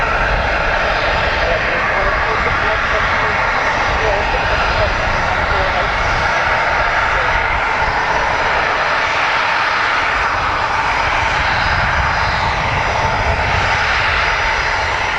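AirX charter jet arriving at Dublin Airport, a loud continuous engine roar and rushing noise sustained throughout, close and heavy, with voices talking over it.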